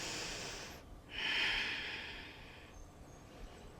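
Heavy breaths during yoga practice sound close and fairly soft: a long airy exhale, a short pause, then a stronger rushing breath that slowly fades, with no talking.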